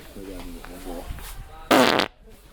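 A loud, raspy fart bursts out after some low murmuring, lasting roughly a third of a second before cutting off abruptly.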